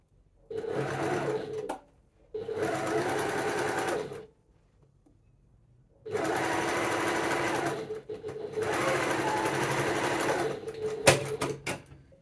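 A sewing machine stitches a blouse made from thrifted fabric, running close by in four steady bursts of a few seconds each, separated by short pauses.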